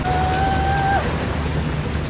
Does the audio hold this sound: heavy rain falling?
yes